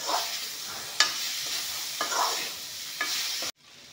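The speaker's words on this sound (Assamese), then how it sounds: "এয়া চাওক, ওলকবিখিনি ধুনীয়াকৈ ভাজি ল'লোঁ।" Kohlrabi frying in a pan, a bright steady sizzle broken by regular scrapes of stirring about once a second, cutting off abruptly near the end.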